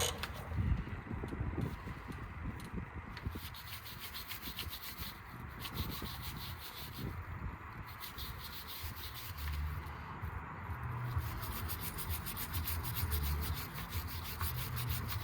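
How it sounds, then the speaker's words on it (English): A front brake caliper on a Ford Focus MK2 1.6 TDCI is scrubbed clean, giving steady, close rubbing and brushing strokes in an even rhythm over a low background hum, with no talking. "And now I can clean the brake caliper."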